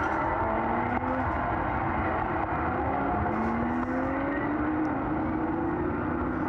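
A pack of GT race cars in 2x2 formation rolls around the 4.653 km Portimão circuit behind a pace car at the start of a Trofeu GT Sprint race, their engines a steady, moderately distant drone with rising and falling whines.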